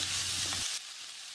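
Potato, brinjal, carrot and drumstick pieces sizzle loudly in a hot pan for sambar, a steady hiss with a brief stirring scrape before the frying noise drops to a softer sizzle.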